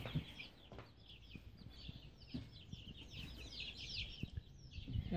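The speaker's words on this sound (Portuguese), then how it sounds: "Olha quanto pintinho." Many baby chicks peep in dense high chirps across a ranch pen, a constant busy chorus with occasional low knocks and handling noises nearby.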